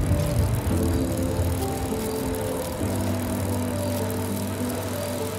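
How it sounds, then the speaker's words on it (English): Bicycle tires rolling past in the GTA 5 video game, a steady rattling whir with a low engine-like hum, continuous and fairly close for several seconds. "I hear bicycle tires, bro."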